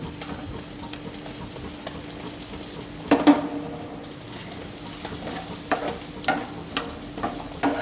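Chopped onions sauté in a pan for a fish roe dish, a soft, steady sizzle underneath occasional scraping and knocking as a utensil stirs, close and fairly quiet.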